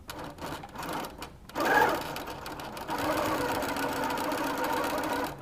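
Sewing machine stitching quilt pieces for a Lone Star quilt, a short whirring burst followed by a longer steady run of rapid needle chatter, close and clear.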